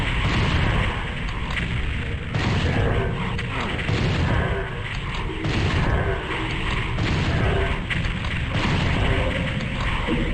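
Rocket explosions against pain elementals in Doom 64, a busy run of loud booming blasts and mechanical game noise repeating every second or two with no pause.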